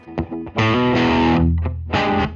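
Electric guitar played through a DIY Fulltone OCD V1 clone overdrive pedal in high gain mode at a low gain setting: short picked notes, then two sustained distorted chords ringing loud and close, with no voices.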